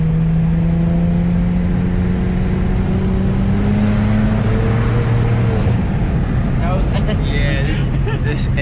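A tuned 2008 SAAB 9-3 Aero (Stage 2+) accelerates hard in third gear, its engine note climbing steadily under loud, constant road and wind noise from inside the cabin.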